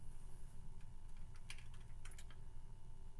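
Soft, quick key presses tap numbers into a calculator, a few light clicks in two small bunches, faint beneath a loud steady low hum.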